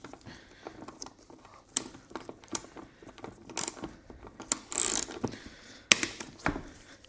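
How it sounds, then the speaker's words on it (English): A hand ratchet cranks on a scooter bolt during belt and roller work, giving a run of sharp mechanical clicks and ratcheting bursts of uneven rhythm, close and fairly quiet, with no talking. "sometimes you have to swap it out for a hand ratchet."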